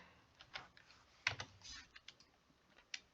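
Fingers tap on a computer keyboard in short irregular bursts, a handful of quiet clicks with one sharper keystroke, close up and alone.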